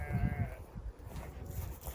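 Sheep bleat in short bursts during a flock's migration from Elazığ to Erzurum highland pastures, close and fairly loud at first, then fading into a low, rustling background.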